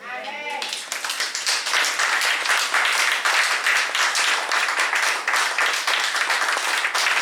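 A church congregation applauding, dense sustained clapping from many hands that starts after a brief shout and stays loud and even throughout, with voices cheering faintly underneath.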